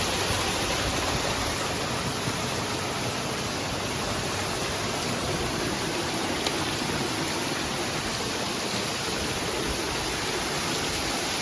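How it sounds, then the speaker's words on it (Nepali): A waterfall at night in Rubi Valley gives an unbroken, even roar of rushing water, steady and moderately soft with no voices. "झरना"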